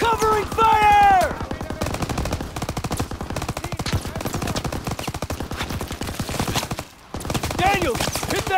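Sustained rapid automatic machine gun fire in a Call of Duty WW2 battle, dense bursts rattling close and loud almost nonstop, with shouted voices over the shooting.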